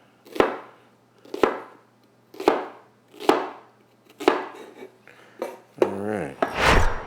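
Knife chopping a jalapeno into rings on a cutting board, six crisp evenly spaced chops about a second apart, close and clear, followed by a brief scraping clatter.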